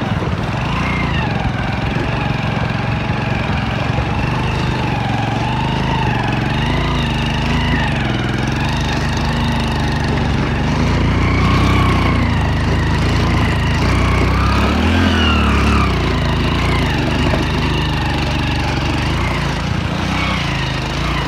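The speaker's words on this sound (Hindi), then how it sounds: "वहाँ से आ रहा है ट्रैक्टर।" A tractor engine runs steadily and loudly near a water crossing, a continuous low throbbing drone with slight pitch wavering and no pauses, with no clear speech.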